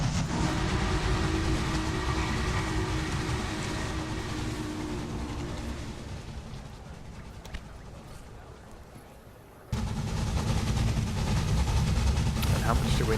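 A train running in the Railway Empire video game, Mexico scenario: a steady, dense rolling rumble that fades slightly, drops out briefly, then resumes, with someone talking over it throughout.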